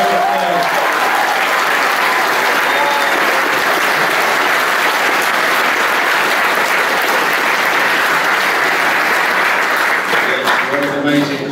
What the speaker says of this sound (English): So can we give Mr. Ball a big round of applause?